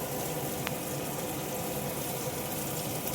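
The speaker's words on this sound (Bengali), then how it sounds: "আর দিয়ে দেবো 6টা মতো কাঁচা লঙ্কা, আর এবার দেবো আমি জল।" Water pours steadily into a mixer jar holding grated coconut and about six green chillies, a continuous rushing splash close by with no voices.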